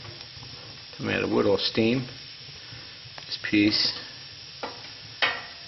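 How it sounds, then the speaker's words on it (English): Wet, unseasoned firewood hisses and sizzles steadily, a soft crackling steam sound running beneath a voice speaking intermittently. "This is all moisture coming out of wood, all steam."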